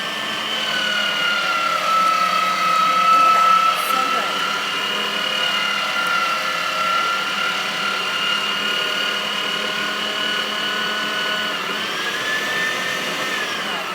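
An electric meat grinder set to its coarsest plate grinds beef chuck, a lamb roast and venison hindquarter, giving a steady, loud motor whine that holds on throughout.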